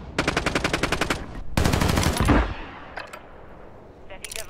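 Decoy grenade in a shooter video game imitating gunfire: two loud bursts of rapid automatic shots, separated by a short gap, then a rushing blast and scattered faint pops.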